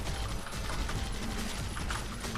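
Rapid, continuous minigun fire in the Zombie Shooter video game, a dense unbroken stream of shots that stays loud and steady throughout with no talking.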